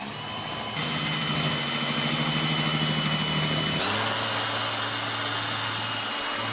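A power drill runs against a cheap guitar body, a loud steady motor whine that shifts pitch partway through as the bit bites, heard close and alone.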